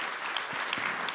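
Warm audience applause welcoming guest Andrzej Leder at a public talk, a brief, steady patch of many hands clapping, fairly soft and even.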